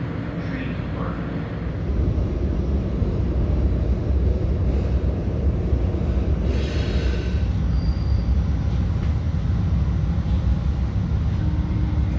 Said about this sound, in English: The North Central service from Metra